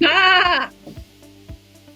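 One loud, wavering sheep bleat close by, cut off sharply and followed by a few soft knocks in near silence.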